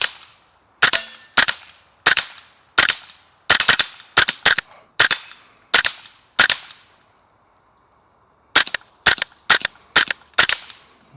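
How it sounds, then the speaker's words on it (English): Gunshots at dusk from a gun fitted with a green laser and an IR device, sharp cracks fired one at a time in two rapid series separated by a short pause, loud and close. "So let's take a few shots with it here."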